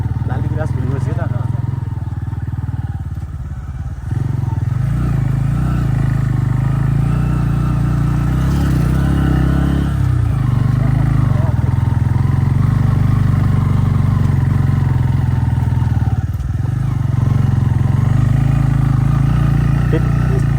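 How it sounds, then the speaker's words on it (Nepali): Motorcycle riding a rough mountain road through rhododendron forest on the route from Salleri to Selgudi ridge, a steady loud engine drone running throughout with occasional clatter and dips, while people talk over it. "त्यो बाइक ठिक छ नि यस्तो बाटोमा"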